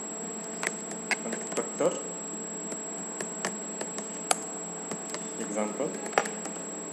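Scattered taps on a computer keyboard while someone speaks, irregular, close and light under the voice.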